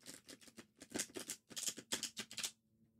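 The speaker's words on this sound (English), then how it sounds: "I'm doing some shuffles" A deck of cards is shuffled by hand in several quick riffling bursts of crisp, papery fluttering, close and clear, ending in quiet.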